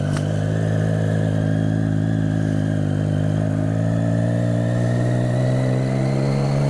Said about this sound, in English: How shit does my bike sound at low revs?